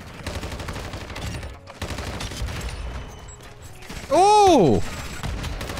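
Hip-fire gunfire in a first-person shooter video game crackles through steady game noise, a loud burst near the end followed by a sweeping tonal effect, with a voice exclaiming briefly.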